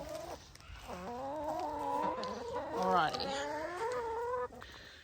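Chickens cluck in their pen while someone talks over them, their calls mixing with his voice throughout.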